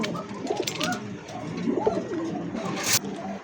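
Soft, low cooing from pigeons close by, several rolling coos in a row with a brief rustle or flutter near the end.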